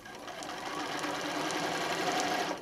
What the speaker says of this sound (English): at this point, we're just stitching around